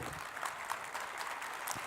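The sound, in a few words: audience applause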